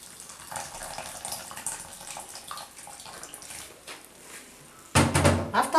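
Hot water poured onto salted groundnuts (peanuts) in a bowl, a brief close splashing gush near the end after quiet kitchen clatter.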